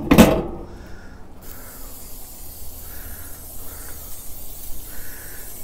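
A short, sharp hiss opens the clip, followed by softer intermittent hissing bursts, like an aerosol spray being pressed in brief puffs nearby, spraying oil onto the grate of a Char-Griller Akorn kamado grill.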